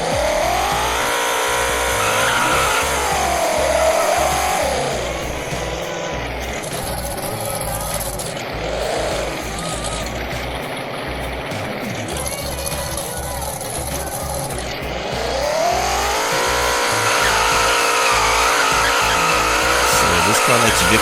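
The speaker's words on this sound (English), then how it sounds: "This car likes drifting to the left, like an NASCAR, I guess." Tires squeal and skid as a car drifts and spins donuts in the Roblox game Greenville, with the engine droning loudly throughout and talk over it.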